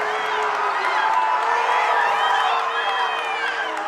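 Shoshone fans cheer and react in a gym during a regional semifinal basketball game: a dense, loud crowd roar with whoops and shouts running the whole time, and voices speaking beneath it.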